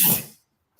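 A single short, breathy burst that starts loud and quickly trails off into silence, like a close sneeze.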